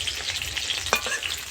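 Pointed gourd pieces fry in hot oil, a dense close hiss of sizzling with a brief clink of stirring in the middle, continuous and without talk.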